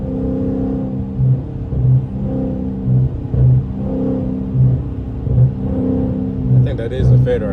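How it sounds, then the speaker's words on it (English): Catless Dodge Scat Pack engine, a loud deep rumble with rhythmic surging revs repeating about every second, close and steady throughout. "This motherfucking car be going crazy."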